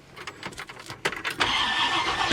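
A 1966 Ford Country Sedan engine cranks with a rapid run of starter pulses, then catches and settles into a steady, close, rumbling idle.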